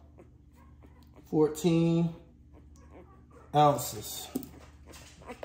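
A nine-day-old lilac tri merle puppy whimpers in two short, high whines during a weigh-in, close by and fairly clear, with a voice talking faintly nearby.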